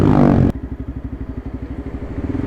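A motorcycle touring on the Pantura coastal road between Jakarta and Purwokerto rumbles steadily while riding, its engine pulsing in quick, even beats after a brief louder rush of wind and road noise.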